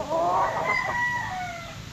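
A sweater gamecock rooster crows once, close and clear, a rising then drawn-out call that trails off over quiet background.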